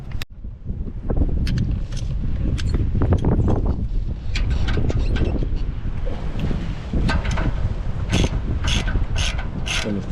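Ratchet cranking off suspension bolts on a BMW F10 during a coilover install, a dense run of quick metallic clicking close to the microphone, with wind noise and no talking.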